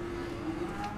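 A Simmental cow at a cattle market gives a sustained, steady moo that rings out clearly over a busy background, with no one speaking.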